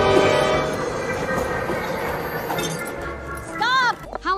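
A train rumbles and clatters steadily while pulling away from a station in an animated film, loud and close, with a brief metallic squeal near the end and voices talking over it.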